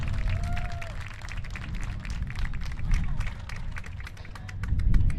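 A crowd at a high school baseball game between the Cedar Park Timberwolves and Leander Lions applauds the Timberwolves seniors, with steady, moderately distant clapping and voices under it throughout.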